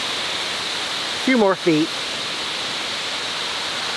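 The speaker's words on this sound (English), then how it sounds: "It's a wonderful rapid river thing." A rapid river rushes at a waterfall as a steady broadband roar filling the whole stretch, with someone briefly speaking over it.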